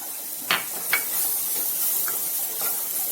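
Onions, peas, coriander and curry leaves frying in hot oil for samosa filling, a steady soft sizzle with a couple of sharp stirring scrapes and occasional crackles, fairly close and alone.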